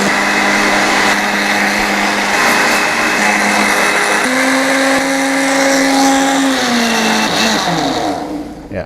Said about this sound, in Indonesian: Dan kita masukkan ke dalam blender.